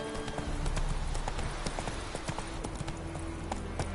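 Roach, the player's horse in The Witcher 3, galloping in a steady rapid clip-clop of hooves, close and continuous over a low ambient game soundscape with faint background music.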